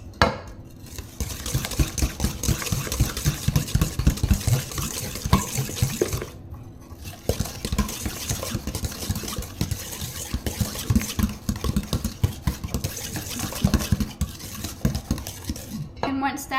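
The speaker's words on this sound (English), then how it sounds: "And then we're going to whisk this up really good." A whisk beats a salted dessert batter in a bowl, fast continuous metallic scraping and clinking that pauses briefly twice, loud and close.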